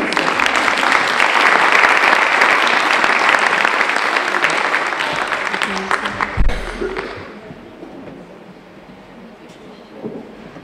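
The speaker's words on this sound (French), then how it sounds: "On peut l'applaudir pour l'encourager." Audience applause at an International Day of Rural Women gathering in Teloché, a dense, steady roar of clapping for about six seconds that thins and fades to scattered claps and room noise.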